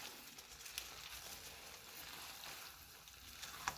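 Risotto with wilting spinach sizzles quietly in a hot pan as it is stirred, a soft continuous frying hiss with faint scraping, low and steady without talk.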